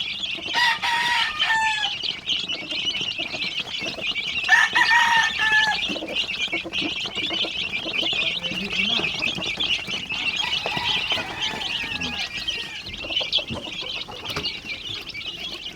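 Gamecock roosters crowing repeatedly over a steady background of clucking and chatter from many fowl, some crows close and loud, others farther off.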